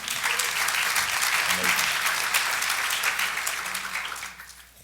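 Audience applause at a university forum, a full steady round of clapping that fades out near the end, with a brief voice heard over it.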